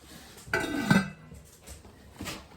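An enameled cast iron braising pan and its heavy lid are handled, giving a few close, loud clanks and metallic clinks, then a quieter knock and a final clink after a pause.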